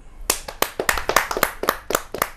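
Brisk clapping from a small audience at a kavi sammelan poetry gathering welcoming a new poet, a quick run of close, individual handclaps without much crowd roar.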